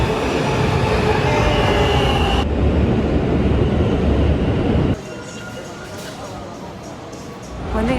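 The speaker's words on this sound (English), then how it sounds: "I'm at the train." A subway train stands at a station stop, its loud rail rumble and rushing air filling the space before a sudden drop as the train noise cuts down, then a low hum and rising roar near the end.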